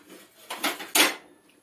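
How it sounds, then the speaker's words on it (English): A tin plate is set down as a makeshift lid on a large second-hand cooking pan, giving two bright metallic clanks close by, the second louder, with no talk. "what I do is I use that tin plate. So that's the lid."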